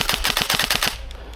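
An airsoft gun fires a fast burst of about eight sharp, evenly spaced shots close by, then stops and leaves a short quiet tail.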